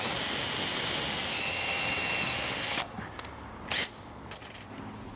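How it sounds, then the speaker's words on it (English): A power drill with a 1/8 inch pilot bit whines loudly and steadily into a bracket, then cuts off, followed by a couple of short bursts and some quieter clattering. "I'm going to start with an 1/8 inch pilot bit."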